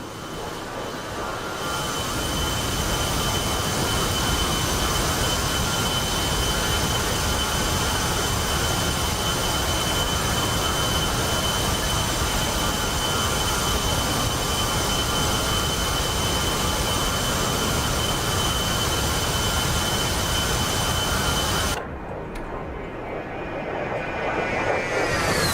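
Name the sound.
aircraft engine labouring while climbing, from a video game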